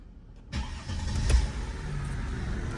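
Engine of a Mercedes-Benz W210 car starting up: a sharp onset followed by a steady, fairly loud low idle rumble with a brief surge, no talking.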